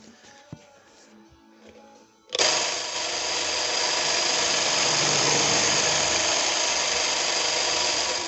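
A multi-spindle drill starts abruptly after a few quiet knocks and bores into wood, running steadily and loudly, a close, continuous whirring grind with no talking.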